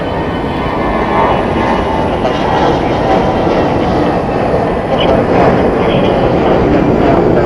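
A jet airliner takes off from runway 7 right at Phoenix Sky Harbor, its engines a steady, broad, close roar that holds loud and unbroken throughout.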